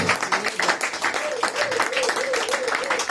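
A church congregation applauds and acclaims the Lord during a service, with steady, dense clapping that keeps up throughout and raised voices mixed in.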